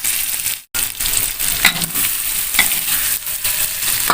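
Fish crackles and sizzles in hot oil in a wok for a spicy basil fish dish, with a steady frying hiss and a few stirring clinks. No one speaks.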